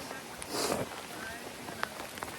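Water dripping from wet trees during rain on a Mount Tam hiking trail: a soft, steady patter with a few sharper, isolated drops landing close by.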